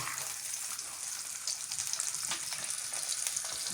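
Quail frying in a pan with rosemary and garlic gives a steady, moderately quiet sizzle with fine crackles and small spatters, close up and with no talk.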